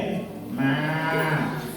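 Children's voices imitate a cow's moo, a drawn-out lowing call lasting nearly two seconds, loud and close, in a school celebration setting.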